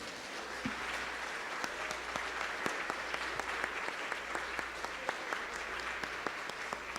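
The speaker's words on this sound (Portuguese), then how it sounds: "Você pode aplaudir ao nosso Deus?" A church congregation claps together in a steady, dense wash of applause during a worship service, sustained and even, filling the room without voices on top.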